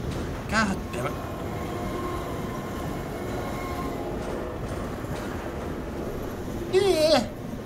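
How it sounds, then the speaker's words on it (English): A noisy train in Half-Life 2 rumbles past in a continuous loud roar, with squealing wheels and metallic clatter rising near the start and again toward the end. "A very noisy train."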